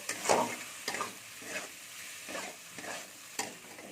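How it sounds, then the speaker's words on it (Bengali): Fried potatoes being stirred and sautéed with spices in a pan for a green-tomato prawn curry, with about six soft, evenly spaced scraping strokes over a faint, low sizzle and no voices. "আলুটা দিয়ে ভালো করে মশলার সাথে কষে নেবো"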